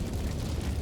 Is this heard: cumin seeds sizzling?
no